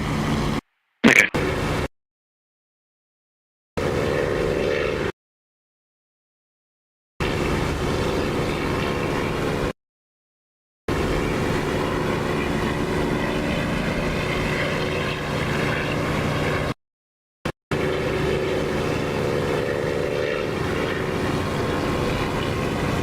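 A propeller aircraft engine drones loudly and steadily during takeoff in the DCS flight simulator, the sound cut by several abrupt dead silences before resuming at the same level.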